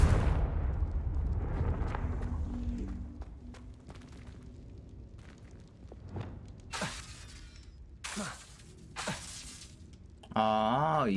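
A Confringo blast spell cast in Hogwarts Legacy, heard as an explosive shattering burst followed by crackling debris and several sharp whooshing impacts, fairly close, with a tonal chime near the end.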